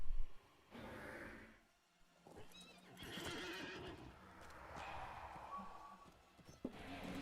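A horse in the online game LOTRO whinnies loudly, then its hooves clip-clop in a quick, steady rhythm alongside busy game effects, with no talking over it.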